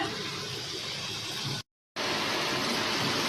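Spices and masala sizzling steadily in a hot frying pan, a dense continuous hiss that cuts out briefly to silence midway and then resumes at the same level.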